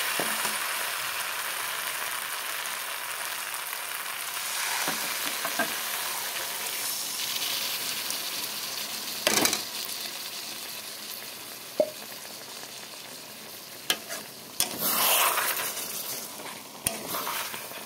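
Chicken frying in oil as it is stirred, a steady close sizzle with occasional scraping and clanks of the spoon against the pot, carrying on without any talk.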